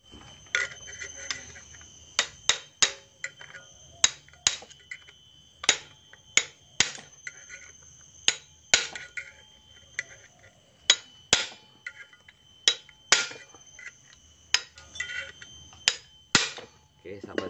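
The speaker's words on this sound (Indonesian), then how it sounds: "Lalu kita akan pahat kembali karena jejak yang lama sudah dipahat." Hammer and chisel striking a metal clutch part of a Honda Revo Absolute motorcycle, sharp metallic clinks repeating in an irregular rhythm of single and double blows, close and clear over a quiet background.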